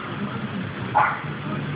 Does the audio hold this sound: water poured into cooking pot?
no